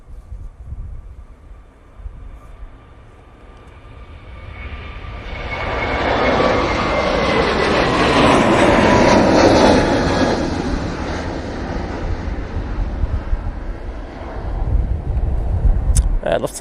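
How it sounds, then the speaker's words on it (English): A Turkish Airlines A321neo jet on its takeoff roll at Manchester Airport, bound for Istanbul: engine roar swells from a distant hum to a loud broad rush with a rising whine, peaks midway, then eases off as it departs. "Turkish now on the roll, using their A321neo,"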